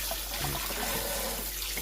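Water runs steadily from a bathroom tap for soaking Levi's 501 shrink-to-fit jeans, a close, continuous splashing rush into a filling sink or tub.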